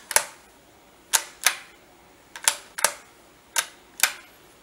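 A repeating rifle's bolt action is worked in sharp, close metallic clacks, about eight distinct impacts in irregular pairs and singles over a quiet background.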